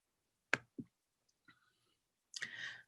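A few sharp computer mouse clicks on an office computer, two close together near the start and a faint one midway, followed by a soft burst of handling noise, quiet and close.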